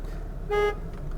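A single short horn beep from a 1994 Toyota Corolla SE Limited 16V, close and clear, sounding on its own for about a quarter second against a quiet background.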